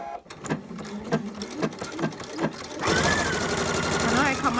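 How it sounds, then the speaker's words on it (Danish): A sewing machine stitches a shirt seam in Liberty fabric, first in short stop-start bursts of rapid clatter, then a close, steady whirring run of stitching, with someone speaking over it. "Og jeg syr med en centimeter sømmerum."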